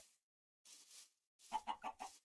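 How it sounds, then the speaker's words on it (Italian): A chicken in Minecraft clucks in short separate bursts, a few isolated calls followed by a quick run of four clucks, close and clear with no talking. "Ciao, gallina!"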